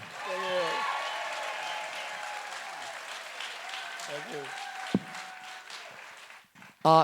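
Audience applause on the Flower Power Cruise greeting guests Cheech and Chong, a steady spread of clapping under a host's voice, with a louder burst near the end.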